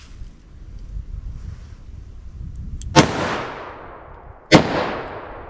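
Two loud outdoor .44 Magnum handgun shots firing 200 grain solid copper Hornady Handgun Hunter rounds, each a sharp crack with a long decaying echo, about a second and a half apart over wind noise.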